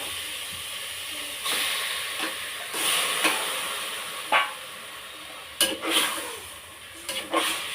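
Chicken frying in a pan gives a steady, moderate sizzle and hiss, broken by sharp scraping clicks from stirring at uneven intervals, with no voices.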